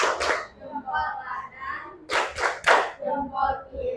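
Schoolchildren in a classroom perform a thumb clap rhythm, sharp bursts of hand claps in short groups alternating with a teacher's voice speaking between them.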